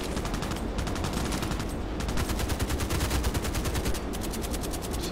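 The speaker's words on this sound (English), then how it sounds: "Immediately shooting." Rapid automatic gunfire from the video game Contract Wars, a dense, loud burst of evenly spaced shots that runs almost without pause, with short breaks between strings of fire.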